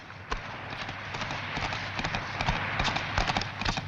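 Horses clatter away in a quick, uneven run of hoofbeats, fairly faint and distant over a low rumble.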